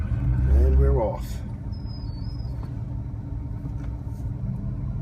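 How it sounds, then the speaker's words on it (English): A 1948 Cadillac backs out of a driveway with a low engine rumble that swells loudly at first and then settles into a steady drone, with a brief high squeak partway through. "And we're backing up out of the driveway."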